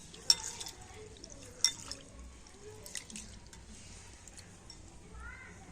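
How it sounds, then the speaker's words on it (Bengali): Raw rice is rubbed and washed by hand in a bowl of water, making splashing drips and sloshing with a couple of sharper splashes, and a voice talks faintly underneath. "চালটা হাত দিয়ে এরকম একটু ঘষে ঘষে তো পরিষ্কার করে ধুয়ে নিতে হবে"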